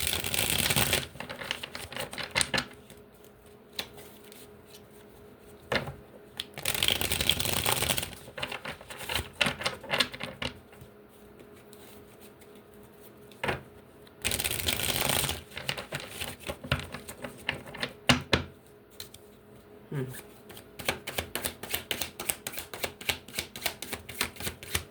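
Tarot cards being shuffled in soft, quick riffling bursts, several separate rounds with quiet pauses and small tapping sounds between them.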